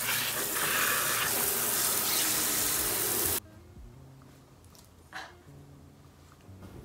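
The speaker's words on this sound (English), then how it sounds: "Let's go rinse her out." Running water from a tap rinsing an ice-dyed hoodie, a loud steady gush for about three seconds that stops abruptly, followed by quieter handling sounds and a brief splash.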